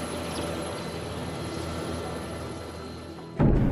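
A military helicopter flying through mountains, its steady, loud engine and rotor roar continuous and close throughout, ending in a sudden louder burst.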